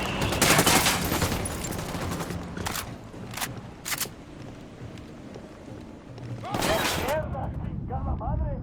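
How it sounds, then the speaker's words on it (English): Gunfire in the shooter game Ghost Recon Wildlands, sharp bursts of shots scattered over the clip with a louder volley near the end, mixed with wind-like noise and background game sounds. "Opening fire."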